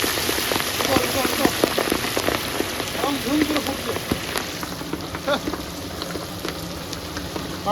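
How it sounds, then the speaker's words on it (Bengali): Steady crackling sizzle of pabda fish frying in hot oil, dense and continuous, with faint background voices underneath. "পাবদা মাছ ভাজা খুব কঠিন, দেখো বন্ধুরা ভেজেছি কেমন।"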